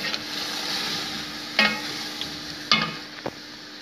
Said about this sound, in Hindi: अब इसके अंदर हम करेंगे ऐड दही और इसको करेंगे अच्छी तरह मिक्स।